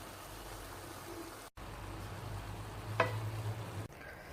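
Minced meat with tomato paste frying in a pan, a soft steady sizzle with a brief stir and scrape partway through, quiet and close.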